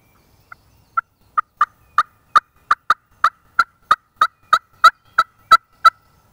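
A wild turkey calls in a quick, regular run of some seventeen notes outdoors, starting faint and growing louder and steady, heard alone against a quiet background.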